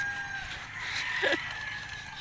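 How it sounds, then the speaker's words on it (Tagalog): Faint clucking of chickens at a distance in the countryside of a Philippine province under a steady outdoor hum, with one brief fowl call standing out midway. "di ba ang daming manok?"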